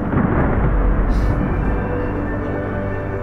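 A deep, continuous rumbling boom fills the clip as Arctic glacier ice breaks off, a heavy low roar like distant thunder, steady and loud throughout.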